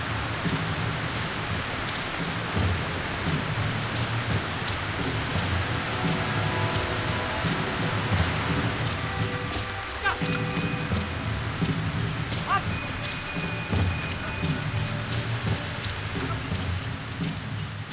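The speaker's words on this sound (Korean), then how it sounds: "사흘째 계속 비가 내립니다." Steady rain pours down on the third straight day of the rainy season along a mountain trade route, a dense, continuous hiss of drops spattering on surfaces throughout, with no voices.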